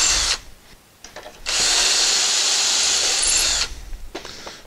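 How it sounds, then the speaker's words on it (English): A power drill whines loudly and steadily for a couple of seconds as it bores through a melamine panel, with brief quieter bursts before and after. "And then we're just going to drill it through."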